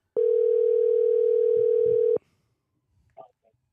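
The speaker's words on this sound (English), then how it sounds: "I'm going to make an important phone call." A steady telephone dial tone hums for about two seconds, then cuts off, followed by a brief faint voice.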